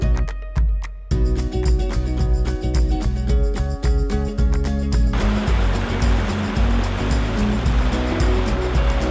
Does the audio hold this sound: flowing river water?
yes